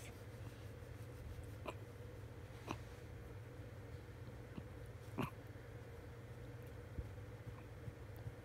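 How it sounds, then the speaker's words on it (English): A tired dog hiccups in a quiet room, a handful of short soft jolts spaced a second or two apart, faint over a low steady hum. "He has the hiccups."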